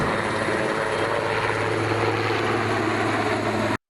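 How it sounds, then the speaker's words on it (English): A Changhe Z-10 attack helicopter, a 4.5-ton Chinese-built gunship, flies past with a steady, loud engine and rotor drone, holding constant for a few seconds before cutting off abruptly. "Say hello to China's very first homegrown attack chopper, the Z10."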